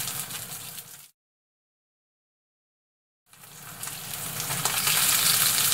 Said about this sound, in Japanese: いい感じで焼き目がついてますけどもう少しパリッとさせます